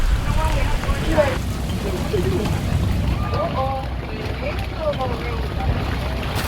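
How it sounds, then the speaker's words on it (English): Strong storm wind at the Haulover sandbar in Miami Beach roars and buffets the microphone steadily, with water noise and people talking over it. "Look at that crazy hurricane"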